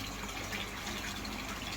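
Water poured steadily into a tank to top up its level, a continuous close gushing splash with no break and no talk.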